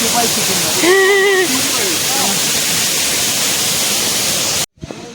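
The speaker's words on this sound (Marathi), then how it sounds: "धबधबा पूर्ण किती छान आहे" A loud, steady roar of rushing water from a waterfall on the Panhala to Pawankhind trek fills the air, with a voice calling out briefly over it before it cuts off abruptly.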